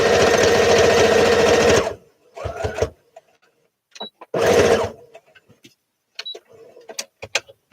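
A sewing machine stitches a piece of fabric in a loud steady run for about two seconds, then stops, followed by brief bursts of handling and clicks, another short stitching burst, and scattered small knocks.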